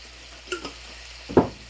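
A spoon stirring cowboy chili in a cooking pot, a few quiet scraping strokes at about 0.5 s and a firmer one near 1.4 s, over faint kitchen background.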